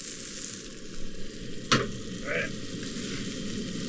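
Onions, a whole one, sizzling and browning in a pan on a stove at an outdoor tailgate cookout. A steady broadband frying hiss runs throughout, with a sharp clack partway through and a brief burst of stirring.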